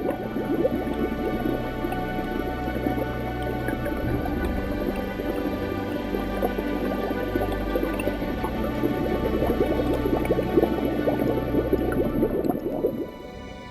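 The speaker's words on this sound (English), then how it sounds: "The volcano continues to bubble away underground, releasing foul-smelling toxic gases into the water." Volcanic gas bubbling up from underground into water, a steady continuous gurgle and burble of rising bubbles, close and loud, with no voices.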